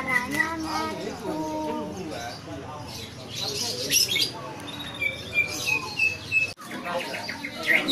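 Magpie robin singing among other caged birds at a bird market, with varied whistled phrases and chirps mixed with squawks and cooing pigeons over steady crowd and market noise.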